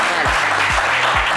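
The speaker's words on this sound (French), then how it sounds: "je vous applaudis très, très fort." A studio audience at a French television show applauds in a dense, loud, continuous wash of clapping with no talk over it.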